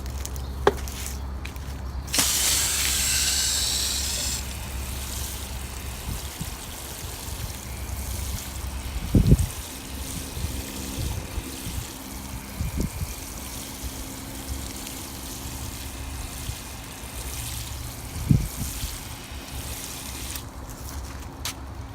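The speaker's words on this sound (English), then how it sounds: "First I'll start out though by wetting the soil and preparing it" Water poured onto garden bed soil before planting onions, a steady trickling splash with a brief louder gush early on and a few footsteps or thumps, no talking.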